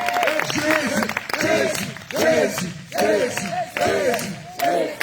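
Congregation at an all-night prayer gathering in Grand-Bassam acclaiming and cheering in loud, repeated bursts of shouting and clapping, with a voice speaking over the crowd.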